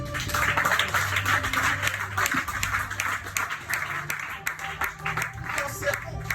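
A congregation applauds in church, a crowd of hands clapping steadily all the way through, with voices and faint tones mixed in underneath.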